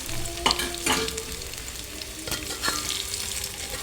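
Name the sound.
potato pieces frying in oil for curry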